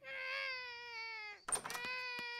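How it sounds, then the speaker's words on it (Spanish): A baby wails in a long, high sustained cry, breaks off with a gasping hiccup, then cries again, close and loud. "los bebés lloran todo el tiempo y hacen mucho ruido"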